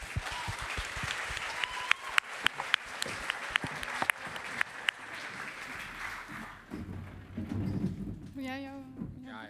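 An audience in a studio talk-show setting bursts into applause, a dense patter of claps with sharp individual slaps, fading out as a voice begins speaking near the end.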